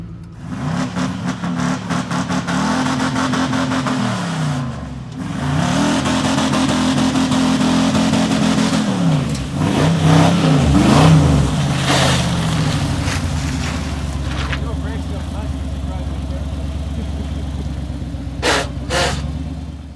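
A heavy 454 big block V8 roars and revs hard, pitch climbing through several gear changes as the Fox-body Mustang accelerates at full throttle, loud and close, easing off toward the end.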